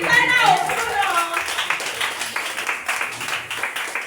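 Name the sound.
church congregation clapping and acclaiming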